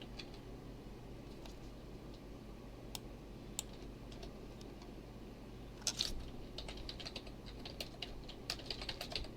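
Quiet, close typing on a computer keyboard, with irregular bursts of key clicks that grow busier and louder toward the end over a low steady hum, with no voices.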